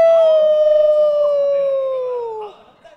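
A single wolf howl on a televised stage show, held long and steady at a fairly high pitch, then sinking and breaking off near the end, loud and clear with no talk over it.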